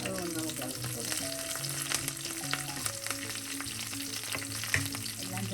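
Chicken liver frying in a pan with sliced green chillies and curry leaves, stirred steadily: continuous close sizzle with repeated scraping strokes of the spoon, no voices.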